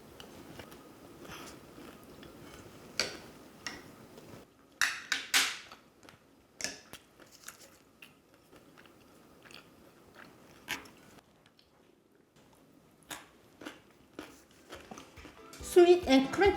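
Bites and chewing of sweet, crunchy boneless Korean fried chicken (dakgangjeong): several crisp, close crunches spaced irregularly, with quieter chewing and pauses between them.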